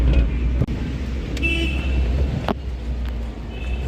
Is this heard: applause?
no